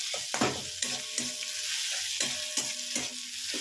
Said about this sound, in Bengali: আমি একটু কন্টিনিউয়াস এরকমভাবে নাড়িয়ে নাড়িয়ে এগুলোকে একটু ভেজে দিচ্ছিলাম